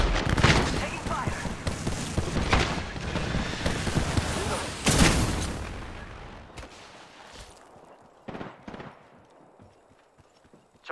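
Rapid bursts of gunfire ring out in the battle royale game Apex Legends, loud and dense for several seconds before thinning to a few scattered shots, with players talking over it.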